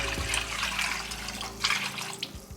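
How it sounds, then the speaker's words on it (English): Water poured into a pot of boiled fish stock for seafood okra soup gives a steady, close liquid splash and trickle that eases off near the end. "Adding just a little bit of water"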